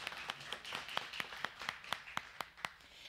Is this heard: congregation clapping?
yes